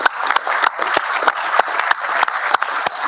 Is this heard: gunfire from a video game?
no